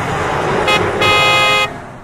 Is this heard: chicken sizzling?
no